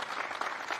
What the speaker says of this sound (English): Just a final round of applause for Coach.